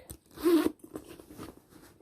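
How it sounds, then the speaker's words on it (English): A zipper on a handbag is pulled open in one quick rasping stroke, close and clear, followed by a few softer rustles and clicks of the bag. "It's got a zipper in the back"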